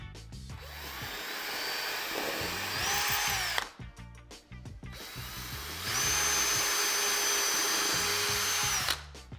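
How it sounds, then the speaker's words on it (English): An electric drill boring holes into a wall to mount a CLUG bike holder, two loud sustained whining bursts of several seconds each with a brief pause between, close up and without talk. "and then drill away"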